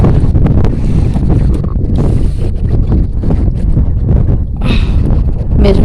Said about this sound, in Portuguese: Muito vento. Muito gelado.